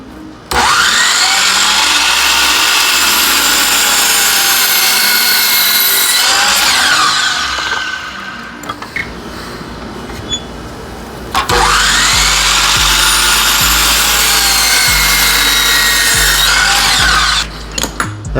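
A power saw cutting wood at a steep roughly 67-degree angle on an extreme angle miter jig, loud whining spin-up and cut, a brief wind-down lull, then a second loud cut before stopping.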